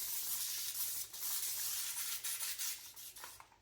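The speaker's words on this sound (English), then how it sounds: "you bring the water here and spray" Water is spritzed from a spray bottle onto furniture during decoupage work, giving quiet, close hissy bursts mixed with soft rubbing, a few short puffs over a few seconds with no talking.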